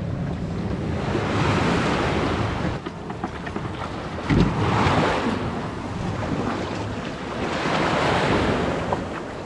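Sea waves wash onto an island shore in steady surges that swell and fade every few seconds, loud and close, with wind buffeting the microphone throughout and no voices.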